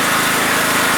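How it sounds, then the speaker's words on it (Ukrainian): A FEIDER FG3000-A petrol generator runs indoors, a loud, steady high-pitched engine drone filling the room at constant volume without pause. "Генератор прогрівся, він працює в приміщенні, тому досить гучно."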